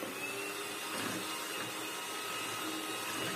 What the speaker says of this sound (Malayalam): ഈ മുട്ട നന്നായിട്ട് പതഞ്ഞ് വരുന്ന പാകം വരെ ആകുമ്പോൾ നമുക്ക് സ്റ്റോപ്പ് ചെയ്യാം